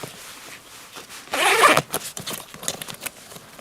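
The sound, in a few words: long side zipper of Savotta Jääkäri backpack being opened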